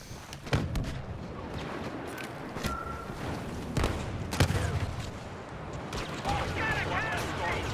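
Blaster and gun fire in a Star Wars Battlefront heroes-versus-villains match, scattered sharp shots and booming bursts over continuous battle noise while a player talks throughout.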